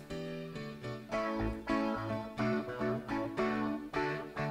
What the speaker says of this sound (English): Just like a very rich keyboard sound